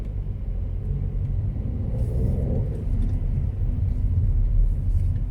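Road traffic in Kalajoki, Finland, heard from inside a moving car: a constant low rumble of engine and tyre noise, broad and steady throughout without distinct passing vehicles.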